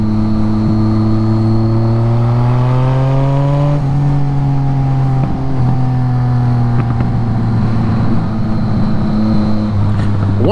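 A BMW K75 motorcycle's fuel-injected engine runs close and loud, its steady hum rising in pitch as it revs around the four-second mark, then settling and pulling again with some clicks and clatter.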